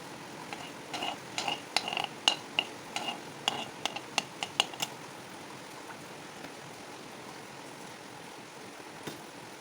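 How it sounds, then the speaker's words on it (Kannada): Mustard seeds sizzle and pop in hot ghee while tempering for betel leaf rasam: a steady soft hiss with a burst of sharp crackles early on that thins to scattered pops later, heard close with no talking. "ಇದಕ್ಕೆ ನಾನು ಸಾಸಿವೆಯನ್ನು ಹಾಕ್ತಾಯಿದ್ದೀನಿ"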